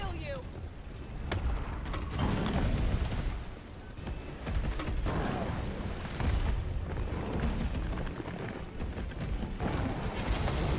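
Explosive ammunition bursting in Resident Evil 3 Remake, a string of deep booms and crackling blasts rolling on steadily and loudly, with someone talking over parts of it.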